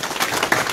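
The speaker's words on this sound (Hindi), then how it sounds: "जोरदार तालियों से" Audience applause greeting politicians at a BJP joining event, a short burst of dense clapping from a crowd, close and moderately loud.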